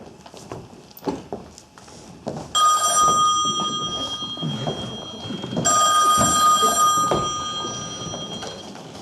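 An old-style telephone bell rings twice in a room, each ring a long, bright, sustained jangle, loud and close over faint shuffling and background movement.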